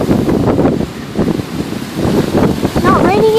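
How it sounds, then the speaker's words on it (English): Strong tropical storm wind buffets the microphone in gusty, roaring bursts, with a voice talking faintly and a whistling tone at the end. "I'm in the box fort and it's very windy."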